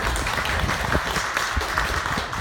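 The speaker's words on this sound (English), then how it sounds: "let's clap for Jeremy" Audience applause at a county Democrats campaign event in Clare County, Michigan: steady, dense clapping from a room of people fills the whole moment at even loudness, with a little crowd murmur mixed in.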